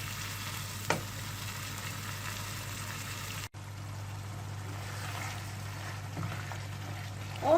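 Spiced filling sauce for Kayseri yağlama simmering in a pan on low heat, giving a steady soft sizzle and bubbling with a low hum beneath and one brief dropout.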